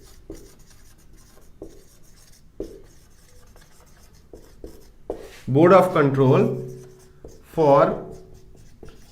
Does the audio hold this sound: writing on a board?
yes